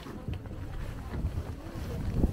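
Strong wind at Ganwoljae mountain pass buffeting the microphone, a loud continuous low roar and rumble close up, with no clear speech.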